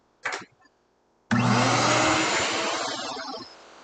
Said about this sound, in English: Let's go get the shop vac turned on.